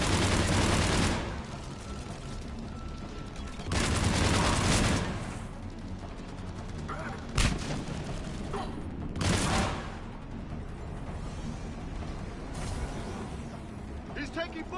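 Loud rattling volleys of battlefield gunfire in Mass Effect 3, several bursts with a sharp single crack midway, set against a constant mechanical combat rumble.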